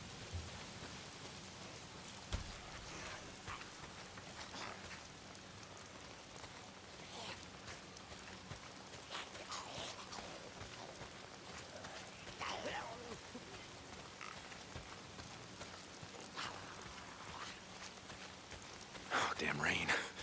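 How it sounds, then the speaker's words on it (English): Steady rain hisses across the outdoor mountain setting of the video game Days Gone, a continuous wash of droplets on surfaces, with a louder patter near the end. "If it's not the freaks, it's the goddamn rain."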